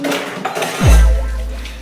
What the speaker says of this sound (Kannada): ಈಗ ಪಾತ್ರೆ ತೊಳಿತಾ ಇದ್ದಾರೆ ನಮ್ಮಮ್ಮ